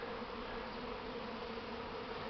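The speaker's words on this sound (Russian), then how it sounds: "Наш рой попер." Honeybee swarm pouring out of a hive, a steady dense buzzing hum from many bees throughout, fairly even and continuous with no pauses.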